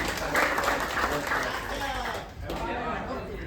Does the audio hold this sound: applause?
yes